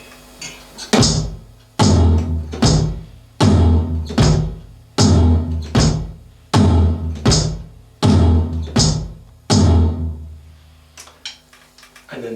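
Drum kit playing a song's beat, with bass drum on one and three, floor tom on two and four and steady quarter-note hi-hats, repeating in an even loud pattern for about ten bars.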